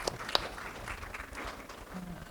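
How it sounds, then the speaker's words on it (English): Faint, thin applause from an audience at a memorial lecture and award ceremony, scattered clapping under a low room hum. "So can we give a clap of applause for her?"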